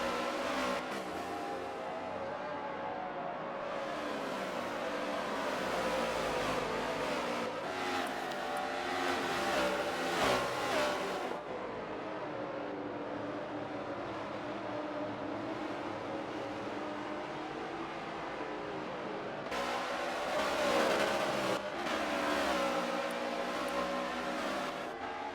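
NASCAR race cars roar around the Sonoma road course, engines revving and rising as cars pass near, with continuous loud engine drone swelling and fading over a long stretch, no talk.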